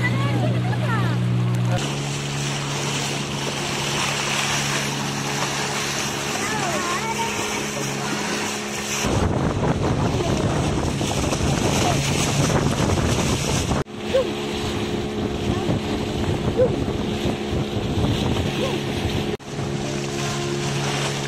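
A boat motor drones over wind buffeting the microphone and the wash of water, with gusts and splashes rising and falling throughout, heading to Buano Island.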